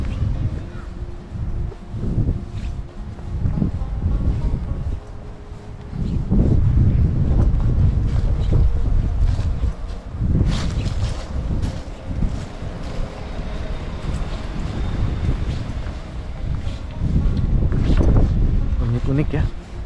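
Strong wind buffets the microphone on a cool evening in the Japanese countryside, heavy rumbling gusts rising and falling throughout while someone talks over it.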